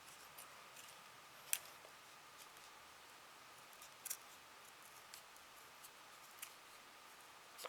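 Scissors snip through tulle for a pompom in a quiet room, giving a few faint, sparse clicks and cuts spaced seconds apart with no talking.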